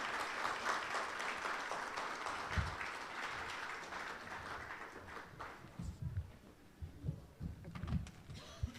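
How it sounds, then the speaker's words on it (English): An audience at a media conference applauds in a dense, sustained wash of clapping that gradually thins out into scattered claps and faint movement toward the end. "Can we have a round of applause?"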